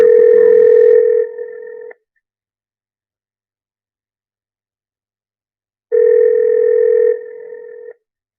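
Ringback tone on an outgoing call to B&D Automotive: two loud, even ring bursts about two seconds long, separated by a few seconds of silence.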